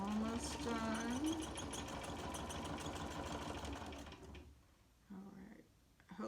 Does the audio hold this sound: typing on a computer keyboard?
no